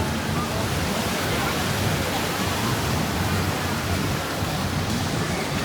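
Waves wash steadily onto a white sand beach on Coral Island near Pattaya, a continuous broad rushing surf with no clear breaks, loud and close throughout.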